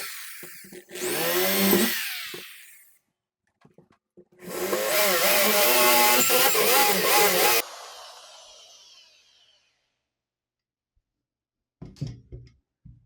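A power drill bores holes to mount parts of a homemade TV antenna: two loud, close bursts of whining drilling with pitch shifts, separated by silence, then brief clatter of handling.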